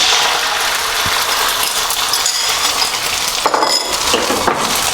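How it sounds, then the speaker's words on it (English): Egg hitting two tablespoons of vegetable oil heated to high in a wok, a steady broadband hiss and crackle of frying with faint metallic clinks, filling the whole stretch without talk. "Bring that up to a high heat, and then we add the egg"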